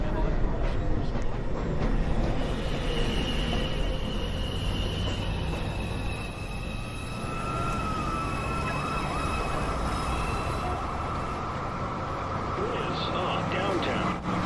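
A NYC subway 2 train pulls into a station, rumbling and clattering steadily with squealing wheels and a rising metallic whine over the platform's constant roar.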